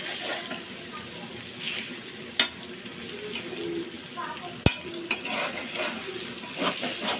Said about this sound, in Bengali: পেঁয়াজগুলো আগে বেশি করে ভালো করে ভেজে নিব